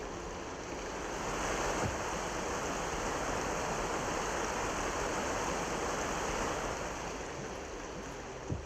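A rushing waterfall in the video game The Talos Principle gives a constant, even wash of falling water that swells slightly early on and then holds steady, with no voices.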